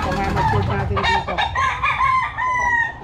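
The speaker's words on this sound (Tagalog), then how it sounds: "gandang manok nito" Young roosters crowing and clucking at close range in a loud, busy cluster of overlapping calls, with drawn-out crows stacking up over each other throughout.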